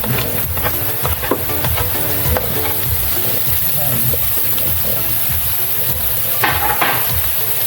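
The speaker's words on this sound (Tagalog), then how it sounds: "naggisa na natin yung ating sibuyas at bawang sa butter" Onions and garlic sauté in butter for a creamy ox tongue dish, a loud close sizzle with stirring scrapes running throughout and an occasional clink of the utensil.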